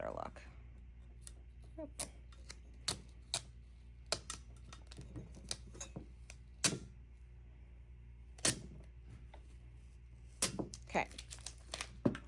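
UV DTF transfer film is peeled from a corner in a quiet room, giving a series of sharp crinkling crackles and snaps in irregular bursts, with a few brief spoken words.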